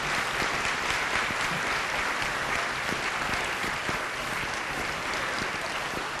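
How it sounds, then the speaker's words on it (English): Audience at a benefit event applauding a speaker, a sustained, dense wash of clapping from many hands that stays loud and steady throughout. "Let's give her a round of applause again."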